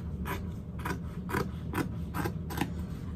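Fabric being cut for a bag's exterior and waterproof canvas lining, heard as six evenly spaced crisp snips or scrapes about half a second apart, fairly faint against a low steady background hum.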